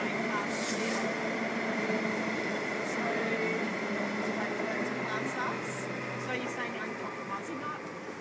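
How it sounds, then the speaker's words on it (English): Trains pass nearby in a steady, continuous rolling rumble with faint screeching highs, loud and close throughout, under a backdrop of occasional voices. "we have a few trains going past here"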